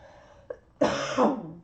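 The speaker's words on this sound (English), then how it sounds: "I'm still coughing and stuff" One short throat-clearing sound is followed by a louder, rasping two-part cough from someone with a cold, close to the microphone in a quiet room.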